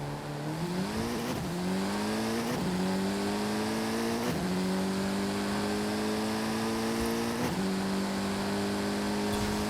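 A drag-tuned Saleen S1 with an 827-horsepower four-cylinder in Forza Horizon 5 launches from a 40 mph roll, its engine note climbing steeply in pitch through repeated gear shifts, loud and close.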